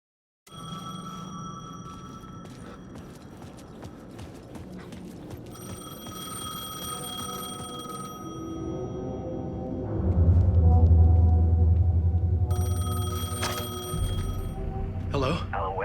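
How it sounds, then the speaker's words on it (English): A payphone rings in repeated electronic bursts with pauses between them in Alan Wake 2, over a low rumbling background and a brief voice. "payphone was ringing."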